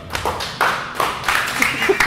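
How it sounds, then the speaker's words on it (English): A small audience gives scattered, thin applause, several sparse claps over about two seconds, with a murmur of voices in the background. "That's the weakest goddamn clap."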